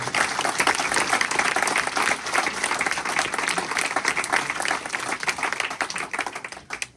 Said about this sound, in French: Je voudrais qu'on les applaudisse parce qu'ils ont beaucoup travaillé